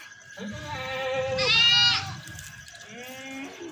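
Rajanpuri goats bleat loudly nearby, one long wavering bleat followed by shorter calls, with more goats answering softly.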